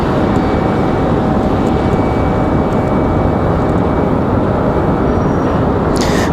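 An Endeavor CRJ regional jet from Indianapolis arriving at Raleigh-Durham airport, a loud, steady broadband engine roar that stays constant throughout with no voices.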